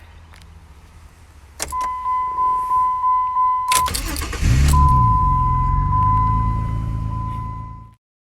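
A 2005 Jeep Liberty with a newly installed starter cranks in a rapid rhythmic churn with a steady whine, then catches and fires into a loud idle that runs several seconds before cutting off abruptly.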